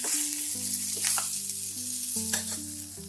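Ginger-cumin paste hits hot oil in a pan with green chilies and bay leaves, giving a strong continuous sizzle and a few stirring scrapes, close and loud.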